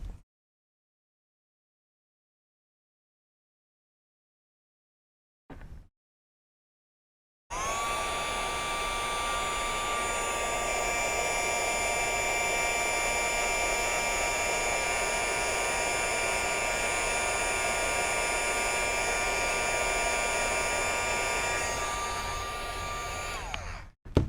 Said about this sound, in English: then I heated it with the heat gun